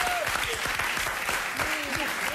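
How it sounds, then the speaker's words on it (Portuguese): A TV studio audience claps enthusiastically in a steady, dense burst of applause, with a voice shouting over it in Portuguese. "Salve palmas para o Porto!"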